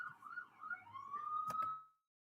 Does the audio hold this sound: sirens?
yes